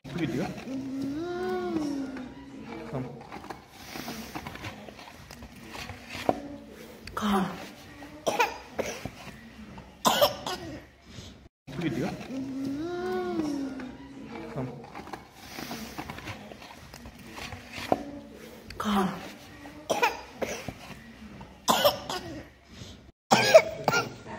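A sick young child coughs repeatedly in harsh bursts, with whimpering and crying between coughs and brief adult talk, close to the microphone.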